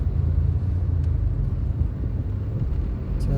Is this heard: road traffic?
yes